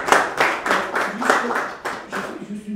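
Small audience at an artificial intelligence conference claps for prize winners, a loose rhythmic run of close handclaps for a few seconds with some voice mixed underneath.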